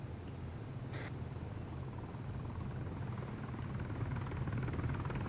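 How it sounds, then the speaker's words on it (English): A helicopter passes overhead outdoors during a training exercise, its low rotor rumble steady and moderately distant, slowly building in loudness with no talking. "aircraft incoming."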